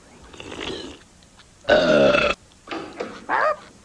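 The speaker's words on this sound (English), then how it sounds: "Watch this, the burp champion of the world." Several loud burps in a row, one long and deep rasping belch followed by shorter ones, close and alone with no talking.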